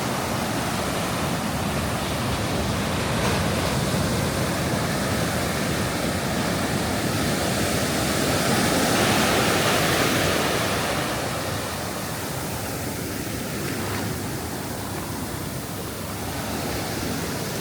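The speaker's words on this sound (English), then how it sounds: "take a good look at the Pacific Ocean here at Manhattan Beach" Pacific Ocean surf at Manhattan Beach in California makes a steady, loud broadband roar of breaking waves that swells slightly and ebbs, with no voices heard.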